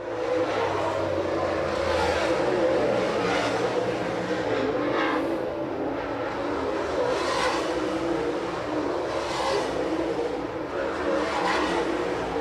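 MARS late model race cars roar around the track at Red Hill Raceway, with loud engines sustained throughout and repeated surges as cars pass nearby.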